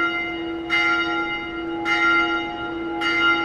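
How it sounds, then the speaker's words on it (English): Church bells tolling in Dark Souls 2, three resonant strikes spaced about a second apart, each ringing out with a long humming decay over a steady tonal drone. "Ring the bells."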